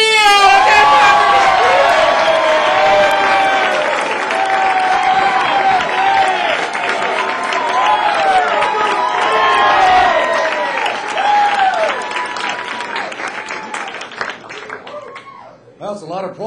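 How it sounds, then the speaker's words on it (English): Sustained comedy club audience applause with cheering and whistles at The PunchLine in Atlanta, a dense, loud roar of many clapping hands that holds steady before thinning out near the end. "big round of applause for Ricky Steele!"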